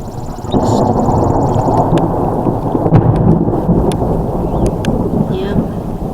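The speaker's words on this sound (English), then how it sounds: "There have been tornadoes and thunderstorms" Heavy rain pours steadily during a thunderstorm with tornado warnings, with low rumbling thunder rolling underneath and a few sharp crackles standing out over the constant downpour.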